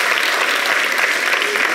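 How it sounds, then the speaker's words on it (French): Dense, loud audience applause during a televised French-language debate program on a social issue, a steady continuous wash of many hands clapping at once, close and even throughout with no talk. "Est-ce qu'on peut pas applaudir ça?"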